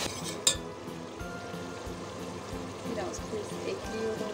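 Water poured over a well-sautéed mixture for a Turkish kurtma-style dish sets off a steady, close frying sizzle in the pan, with a brief splash near the start and a voice speaking over it.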